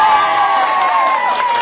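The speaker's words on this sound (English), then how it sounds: "give Sarah a big round of applause" A live pub audience cheers, whoops and applauds in a short, dense burst of crowd noise following a folk performance.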